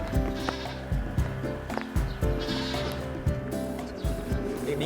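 Goats bleat repeatedly on a livestock farm, several overlapping calls rising and falling close by in a steady chorus with short gaps between cries.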